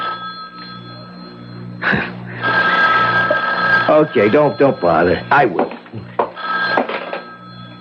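A telephone rings with a steady electric bell trill through a radio drama scene, starting alone and then continuing under voices talking.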